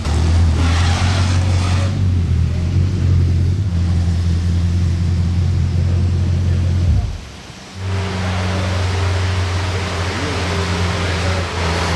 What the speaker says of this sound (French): Il y a Alexandre Moreau qui passe avec sa Bugatti Chiron